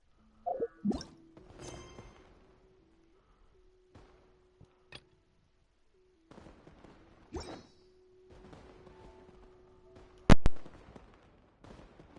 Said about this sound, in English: Why am I hearing fireworks over and over?